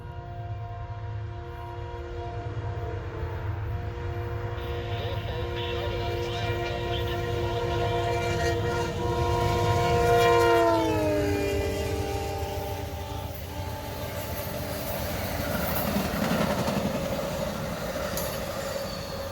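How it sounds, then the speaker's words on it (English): A train horn sounds in long sustained blasts as Amtrak's northbound Crescent passenger train rumbles past close by, its steady roar and clatter filling the whole stretch. "here comes northbound train Amtrak 20, the Crescent"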